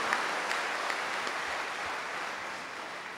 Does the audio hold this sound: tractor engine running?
no